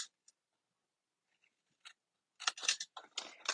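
Paper rectangles for a treat box and fun-fold card being cut along the long side with scissors: a few faint isolated snips early, then a denser run of crisp close cutting and paper rustle.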